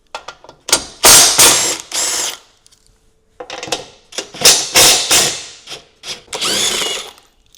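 Ratchet wrench with a 5/8 socket turning 15mm rear bumper bolts on a Cadillac Vistiq, giving loud, close bursts of rapid clicking in several separate runs with short pauses between.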